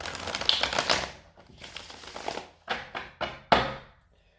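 Cards are riffled and shuffled close up: a long crisp flutter, then several short snapping bursts of cards being bridged and tapped.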